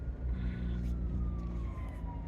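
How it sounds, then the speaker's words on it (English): An ambulance siren wails at a distance over a steady low rumble of traffic, its tone sliding slowly downward as it passes. "It's just an ambulance, but it's still in the way."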